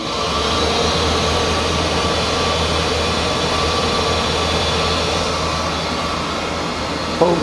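A battery-powered walk-behind floor sweeper with main brushes underneath and a rear waste hopper runs with a steady, loud motor whine and brush hum that holds evenly throughout, with a small knock near the end.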